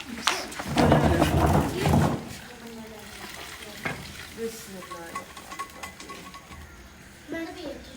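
Oil crackles and sizzles as green chilies and onion are tempered and stirred in a pan, louder bursts at first then a softer steady fry, with voices in the background.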